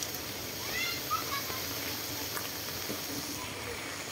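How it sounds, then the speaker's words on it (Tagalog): Heavy rain pours down in a steady, hissing wash during an outing to pick up a student, a dense, continuous patter that stays fairly quiet and even from start to finish. "Grabe lakas ang ulan."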